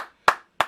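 Two sharp hand claps a third of a second apart, close and crisp in an otherwise quiet room, with no talking.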